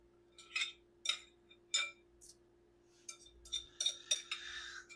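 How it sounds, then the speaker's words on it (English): Dry couscous dumped onto a pan for a pizza crust, heard as several separate bursts of light gritty patter and clinks, a cluster early and a denser run near the end, close and fairly quiet with no talking. "So we're just going to dump our couscous right on the pan."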